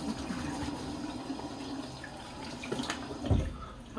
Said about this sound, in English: Okay, I'm gonna rinse up here.